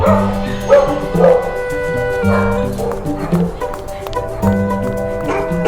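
A dog barks and yips in short repeated bursts with whimpering tones, close and fairly loud, over steady background music.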